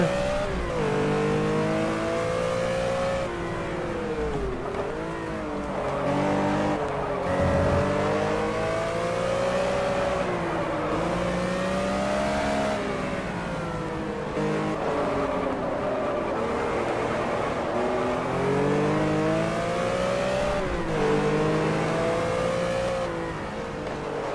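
A race car engine in the GT Legends racing game revs loudly and continuously, its pitch climbing and dropping through repeated gear changes with no talk over it.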